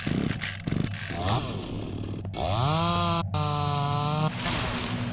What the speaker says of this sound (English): Chop with the chainsaw if they come running.